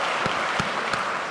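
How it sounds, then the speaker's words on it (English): Lecture-hall audience at a symposium clapping steadily, a brief, even burst of applause at moderate distance. "and you can clap for that"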